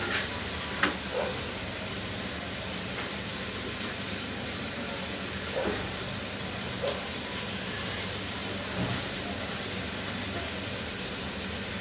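A paratha fries in a pan with a steady, soft sizzle and crackle, punctuated by a few faint clicks and taps as it is turned.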